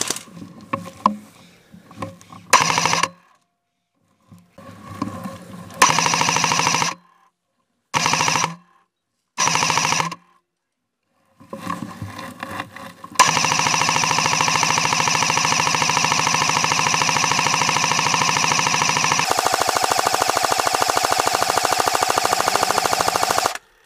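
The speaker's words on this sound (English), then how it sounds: "we'll lay on suppressing fire" Airsoft machine gun, an MK46, laying down suppressing fire outdoors near a barn: short separated bursts at first, then a long sustained stream of rapid automatic fire close to the mic.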